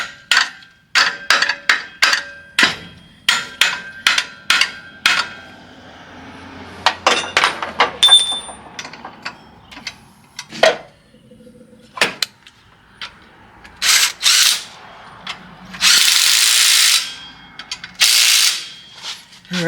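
Hand tools fitting an alternator onto an OBS Chevy: close, sharp metallic clanks, taps and ratchet clicks in irregular bursts, followed by a few longer hissing or scraping passes near the end, with no talking.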